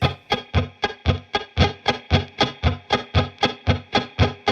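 Rapid, loose guitar strumming with a distorted, buzzy tone, a fast even stream of choppy strokes played close and loud.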